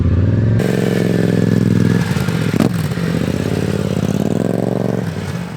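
Motorcycle fitted with an aftermarket exhaust on a test ride, its engine loud and close throughout with a steady throaty drone, a brief surge and gear change partway, then a slight easing at the end.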